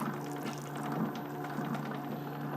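Water is poured into a Neapolitan pizza dough mix in a bowl, making a steady, close trickle with a constant low hum running underneath.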